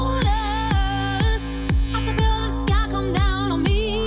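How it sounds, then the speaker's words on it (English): A plugin-preset synth bass line plays a repeating pattern of punchy, pitched notes in a steady pulse, about two per second, clean and alone. "So I might find a bass line that sounds like this"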